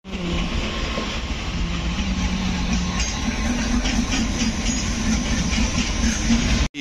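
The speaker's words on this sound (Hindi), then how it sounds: "पठानकोट कैंट रेलवे स्टेशन जो बाहर से कुछ ऐसा दिखता है" Steady, loud station ambience at Pathankot Cantt railway station, with a continuous rumbling train or rail noise, a few tonal hums and squeals layered over it, and no talk.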